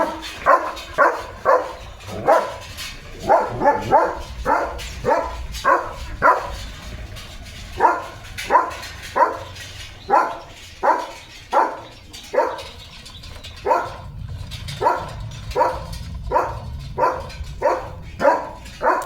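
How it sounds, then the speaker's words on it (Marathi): A German Shepherd barks outdoors in open farmland, giving about two dozen sharp, evenly spaced barks with short pauses between them. The barking is moderately near and nobody speaks. "लिओ तुझ्या भुंकू भुंकू दिवस चालू झाला बरं का होता नुसतं भुंकायचं"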